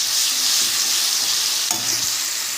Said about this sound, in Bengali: রসুন দিয়ে 1 মিনিট মতন ভেজে নেব।